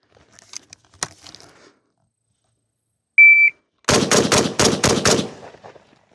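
An SKS rifle fires six shots in quick succession at a target, each a loud, sharp, close crack. A brief electronic beep comes first, and a few faint distant shots sound earlier.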